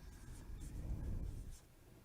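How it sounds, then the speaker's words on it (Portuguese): A marker or chalk scrapes across a classroom board in a short, soft rubbing stroke, heard close and alone. "agora eu vou escrever aqui"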